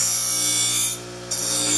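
A hand-forged Damascus steel spear head being rough ground, a steady loud abrasive rasp that briefly dips quieter partway through before resuming at full strength.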